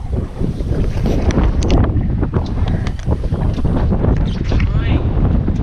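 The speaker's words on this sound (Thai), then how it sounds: "ลมมันแรงนะครับวันนี้" Strong wind roars across a fishing boat at sea in cold-season weather with big waves, the gusts buffeting the microphone in a loud, continuous rush, with a voice faintly beneath.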